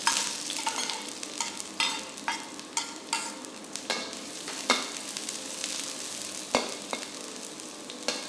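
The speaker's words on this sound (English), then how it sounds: "When the oil is hot, add in your garlic, white parts of the spring onion," Garlic and the white parts of spring onion fry in hot oil for a shrimp and broccoli stir-fry, a steady close sizzle broken by repeated sharp scrapes and clatters of stirring, with no voices.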